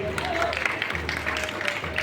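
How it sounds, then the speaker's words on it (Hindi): An audience claps and cheers for Vishal Verma at a film promotion event in Gorakhpur. Steady, dense applause and crowd noise fill the whole stretch, with faint music tones running underneath. "विशाल वर्मा जी के लिए जोरदार ताली हो जाए"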